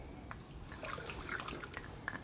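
Water is poured into a brewing vessel up to the one-gallon line, a faint, soft trickle and splash with scattered drips, quiet and without speech.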